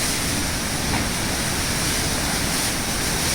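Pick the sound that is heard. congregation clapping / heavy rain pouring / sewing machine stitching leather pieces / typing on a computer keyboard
heavy rain pouring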